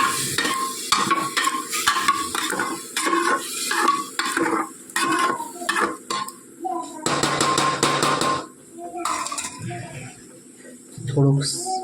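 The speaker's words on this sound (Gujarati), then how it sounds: "સરસ શેકી લઈએ." Soaked wheat roasting in a spoonful of ghee in a pan, stirred with a spoon that scrapes and clinks steadily against the metal over a soft sizzle, close and clear, with someone talking over it.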